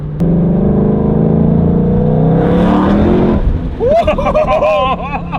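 A Shelby performance car cruising with a deep steady engine drone and low rumble, then the engine note rising as it picks up, with excited voices talking over it toward the end.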